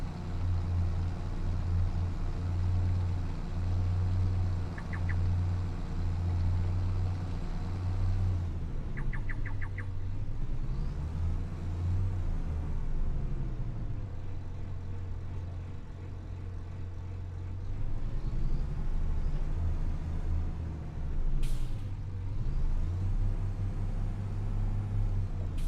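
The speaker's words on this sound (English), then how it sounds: "This tractor is quite loud." A loud video-game tractor engine drones steadily with a low throbbing hum that rises and falls in pitch as it revs, running continuously with no voices.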